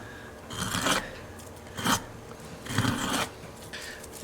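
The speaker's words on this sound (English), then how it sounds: "now I'm going to trim down this strip with the finger plane to this top of the neck here" A finger plane shaves down a proud maple strip on top of a 12-string dreadnought guitar neck, four short rasping strokes spaced about a second apart, close and fairly quiet.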